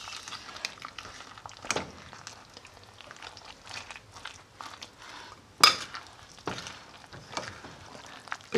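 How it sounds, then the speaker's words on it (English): Milk and eggs being mixed into a stuffing cake batter in a bowl, with soft scraping and stirring and a few sharper clinks of spoon against bowl, close and fairly quiet. "So I'm now going to give them a jolly good mix."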